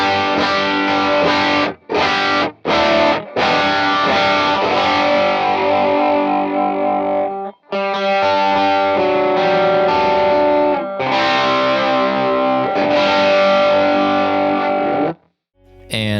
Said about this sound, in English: Everyone knows what a tube screamer sounds like.